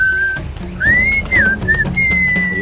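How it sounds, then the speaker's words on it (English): Enchanting whistled tune from the Sam and Max video game, a clear melodic whistle in short phrases with rising and falling notes, up front over a soft backing. "What is that enchanting whistling sound?"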